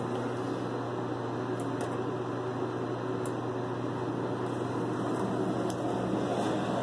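A 2017 Thyssenkrupp elevator at a Homewood Suites hotel in Manchester, Connecticut runs with a steady, constant motor hum and broadband whir inside the cab, with no talking.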